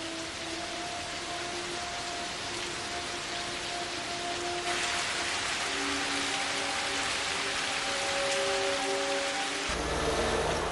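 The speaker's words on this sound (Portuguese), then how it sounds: "Esta chuva incessante cria um problema muito maior que a lama." Incessant rain falls steadily on a wartime Pacific camp, a dense continuous hiss that swells slightly louder partway through, with faint tonal hums running underneath.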